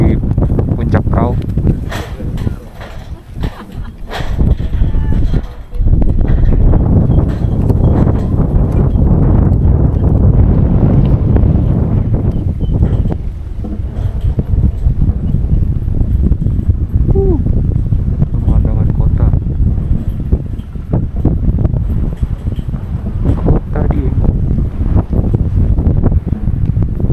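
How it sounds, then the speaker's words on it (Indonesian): Strong night wind buffets the microphone at a hilltop campsite near Dieng, a loud, continuous roaring rumble with gusty surges throughout, while someone talks over it. "Untuk anginnya kencang ya."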